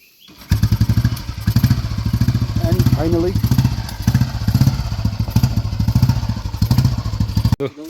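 A Royal Enfield Bullet motorcycle, freshly rebuilt with a repaired cylinder head, new silencer and changed seat, idles with a steady loud thumping beat close by, while a voice briefly talks over it.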